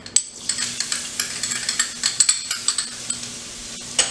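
Garlic fries in sesame oil in a pan, a bright crackling sizzle broken by quick repeated scrapes and taps of a utensil stirring, close and fairly loud with no talking.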